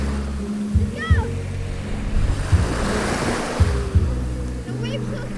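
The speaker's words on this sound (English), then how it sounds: "The waves so strong, Forrest." Strong surf rolls and crashes on a windy beach, with gusty wind buffeting the microphone, low rumbling surges and a swelling wave break midway, and brief high-pitched vocal sounds above.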